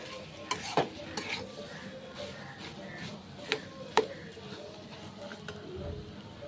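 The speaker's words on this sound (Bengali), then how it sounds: "এটা আমি 5 মিনিট ধরে এটা ভাজছি" Potatoes frying in a pan for mashed potato bharta, a soft continuous sizzle under sharp clinks and scrapes of a spatula stirring against the metal pan, close and moderately loud.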